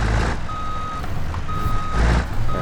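A truck's reversing alarm beeps in slow, evenly spaced tones while it backs a trailer, with a low engine rumble running underneath throughout.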